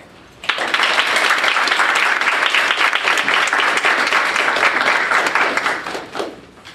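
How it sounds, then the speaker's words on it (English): A crowd at a scholarship reception bursts into steady, dense applause for a student award recipient, sustained clapping at full strength that fades out near the end. "let's give a round of applause for Nathaniel Gabriel"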